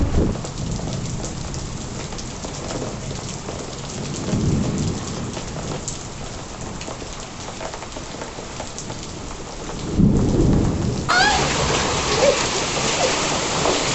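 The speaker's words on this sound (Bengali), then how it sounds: "আরে শিলা বৃষ্টি হচ্ছে, শিলা বৃষ্টি হচ্ছে।" Hailstones and heavy rain pound down outdoors in the first hailstorm of the hot season, a steady dense roar with low rumbling thunder swelling midway and again near the end, no voices.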